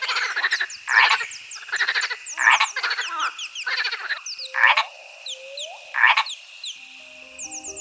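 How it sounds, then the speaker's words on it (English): Frogs croak in steady repeated bursts against a constant high insect-like trill, with chirping calls layered over a dense nighttime chorus of insects, frogs and birds in the Amazon rainforest. "Insects, frogs, birds, all layered into a single vibrating wall of noise."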